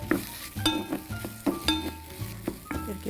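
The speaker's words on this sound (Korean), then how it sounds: "표고는 두껍게 썰으면 한참 익혀야 되고 또 기름을 많이 먹기 때문에 이게 충분히 좀 이렇게 볶아지는 게 좋아요" Sliced shiitake mushrooms and red chili being stir-fried in a pan, with a steady sizzle broken by repeated clinks and scrapes of a utensil against the pan in an uneven rhythm, close up.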